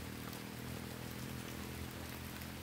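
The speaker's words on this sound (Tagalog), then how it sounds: "nabutan kami ng malakas na ulan" Steady, dense rainfall hissing without a break, a constant broadband wash of water with a low rumble underneath and no voices.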